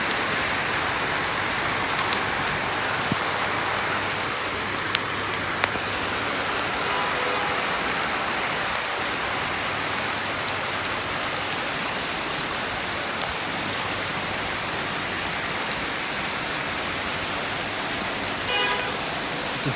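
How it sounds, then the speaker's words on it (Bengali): Rain falls steadily on a rooftop, a dense, continuous patter of drops that holds at an even level throughout, with no talk. "আবার কমে গেল বৃষ্টির তীব্রতা"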